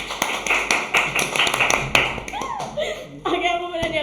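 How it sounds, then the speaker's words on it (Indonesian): Several people clap together in a burst of hand claps that fades into laughter and chatter over the last stretch. "Tepuk tangan dulu aku guys."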